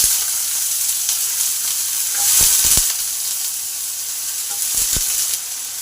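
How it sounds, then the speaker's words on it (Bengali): Potatoes sizzle in a pan over fried cumin and a whole chilli, a steady broadband frying hiss with a few sharp scrapes of stirring, close and continuous with no talk. "জিরে লঙ্কাটা ভালো করে ভাজা হয়ে গেছে এবার আলুটা দিয়ে দিলাম"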